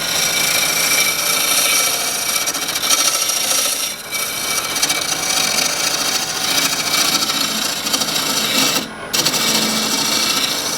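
Custom-made wood turning tool cutting a spinning workpiece on a lathe, a steady rasping, rubbing hiss that runs continuously and loud at close range, with a couple of brief dips.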